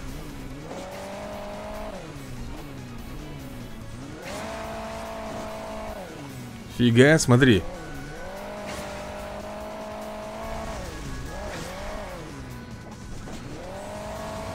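Engines of a motorcycle and cars racing in Hill Climb Racing 2, each revving up and dropping in repeated waves, with a brief loud tire screech midway; a voice speaks briefly.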